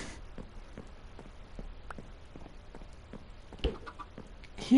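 Minecraft chickens cluck faintly in scattered short calls against a quiet in-game background, with a louder click near the end.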